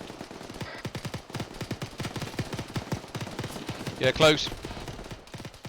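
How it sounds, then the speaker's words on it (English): Rapid automatic gunfire in the Arma military video game, a dense stream of sharp cracks in bursts with a louder nearby volley midway, while voices speak briefly over it. "where are we taking fire from?"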